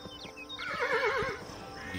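A horse in the video game Kingdom Two Crowns: Shogun gives a single shrill, wavering whinny, loud and close, with a few muffled hoof thuds beneath it.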